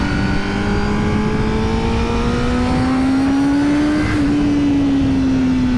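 A 2020 Honda Fireblade race bike is being ridden, its engine loud and close with a smooth rising rev, a brief dip, then a rise again, and no talk over it.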